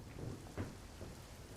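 Monsoon downpour in Padra, Vadodara, Gujarat: a steady, low-level wash of falling rain with a brief heavier burst near the start and no voices.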